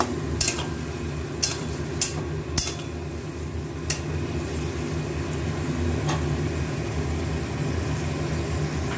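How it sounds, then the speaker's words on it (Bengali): Spices and eggplant are stir-fried in a pan, with a steady frying hiss under several sharp clinks of a utensil striking the pan early on. "বেগুনগুলো দিয়েই মশলাটা সব কষাবো"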